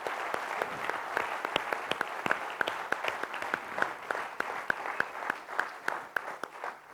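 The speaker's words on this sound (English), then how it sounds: "I'd like you all to give yourselves a huge round of applause for coming up here today for this training." Training session participants in India applaud together in a room, a steady, moderately loud wash of clapping with sharp individual claps standing out throughout.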